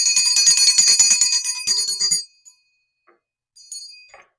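A small hand bell rung rapidly during a tarot reading, a bright jangling burst of quick clinks for about two seconds, then a pause before a softer, shorter jingle.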